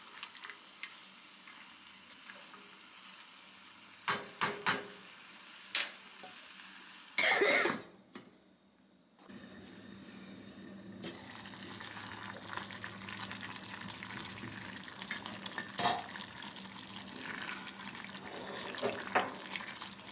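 Tomatoes and peanuts cook under a lid in a pan, giving a steady low sizzle and bubble with a brief clatter of the lid or a utensil partway through. No one speaks.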